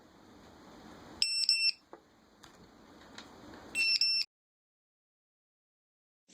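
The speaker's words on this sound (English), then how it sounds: "When the external power is lost, the missing alarm will ring." A Dronekeeper mini2 sounds its power-loss alarm when external power is cut: two loud bursts of rapid electronic beeping, each about half a second, separated by a quieter stretch of background noise, then silence.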